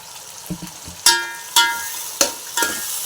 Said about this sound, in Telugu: ఈ మొత్తం బాగా కలుపుకోవాలండి